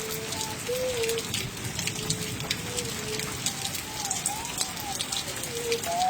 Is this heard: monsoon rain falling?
yes